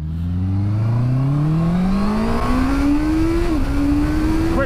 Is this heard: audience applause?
no